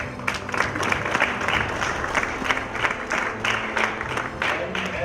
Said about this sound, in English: I think we can applaud for ourselves for being able to come together